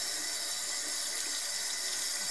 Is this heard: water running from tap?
yes